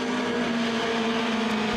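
Mini stock race cars run at Crossville Raceway, a steady unbroken engine roar filling the air, loud and constant throughout.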